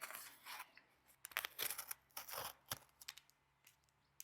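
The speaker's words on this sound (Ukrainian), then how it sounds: "У мене тут ножик. Дуже багато, до речі, скотчу." A knife slices and rips through packing tape on a parcel of books in a series of short, crisp scraping strokes, close by, with brief pauses between cuts.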